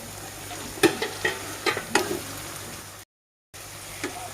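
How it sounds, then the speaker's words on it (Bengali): Tomatoes added to a pan of fried onion and ginger-garlic paste for Kashmiri chicken masala, sizzling steadily while a spoon scrapes and stirs in several sharp clinks; a brief silent gap near the end. "এখন টমেটো দিয়ে দিচ্ছি"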